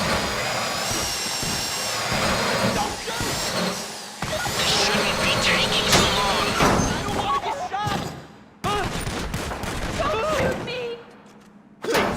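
A power drill whirs during a bank heist in the game GTA, through busy, loud game noise with thumps and bangs, while voices talk over it.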